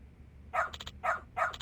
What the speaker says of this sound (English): Woof, woof, woof.